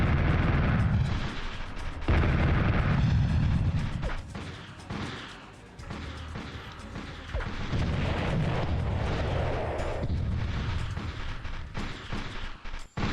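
Grenades explode in the PlayStation game Army Men: Green Rogue, a dense barrage of loud blasts and crashing bursts mixed with gunfire, continuing almost without pause and dipping briefly midway.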